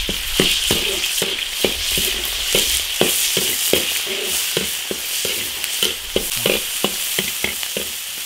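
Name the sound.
minced pork stir-frying in a wok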